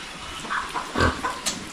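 A Landrace sow grunts in a few short, low snorts close by, with a faint noisy background.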